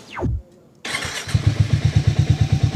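Harley motorcycle engine starting up for a Sunday ride, a short whirring rise, a pause, then the engine catching and settling into a loud, deep, rhythmic throbbing idle.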